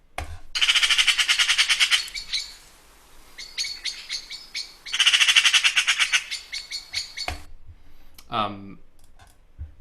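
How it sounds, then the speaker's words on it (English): A magpie gives loud rapid chattering calls in two long bursts, harsh rattling notes close by, followed by a few shorter squawks. "Magpie, we know the magpie."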